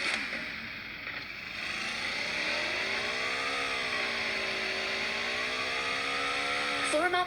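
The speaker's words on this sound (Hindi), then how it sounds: "यहाँ पे बाइक को चला के थोड़ा सा देख लेते हैं" A motorbike ridden in the mobile game PUBG Mobile, a steady droning engine whine that rises and falls in pitch continuously, heard up close throughout.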